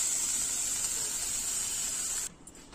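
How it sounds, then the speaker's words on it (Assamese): Bitter gourd frying in a little oil over low heat gives a steady, close sizzling hiss that drops away abruptly near the end. "অকণমান তেল দি পেলাই তিতাকেৰেলা ভাজি"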